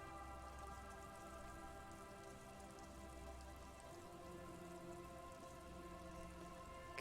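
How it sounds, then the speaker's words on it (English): Steady rain in Disco Elysium patters and drips continuously, a dense wash of droplets with no voices, holding an even level throughout. "She looks at the rain streaming down the yellow belly of the boat."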